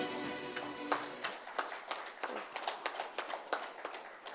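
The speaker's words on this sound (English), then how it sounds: "Applause, please." An audience at an engineering congress in Chennai claps during a felicitation ceremony, a thin, quiet patter of scattered individual claps rather than full applause, without talk.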